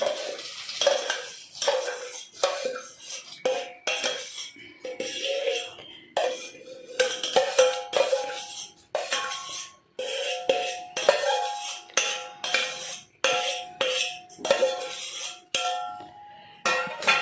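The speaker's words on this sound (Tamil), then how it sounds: "கிண்டி விட்டுருவோம் நல்லா. குக்கரை மூடிக்கலாம்." A spoon stirring rice in a pressure cooker, producing close, rhythmic metallic scrapes and clinks that repeat steadily throughout with no talk.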